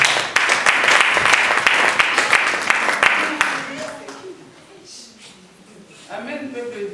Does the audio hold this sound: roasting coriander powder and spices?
no